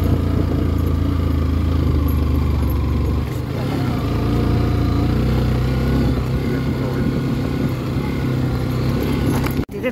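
Traffic on a road toward Chuche Dhunga in Bhaktapur: a continuous engine rumble from scooters, motorbikes and cars passing close by, with steady droning and occasional revving, ending in a brief clatter.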